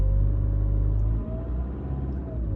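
A car engine revs to about 1500–2000 rpm while pulling away from the handbrake, giving a close, steady low rumble with a brief dip partway through, heard alone.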